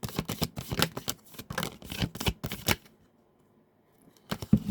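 Tarot cards shuffled by hand in quick riffling bursts, a crisp papery flutter repeated several times, then a short silence before another burst of shuffling.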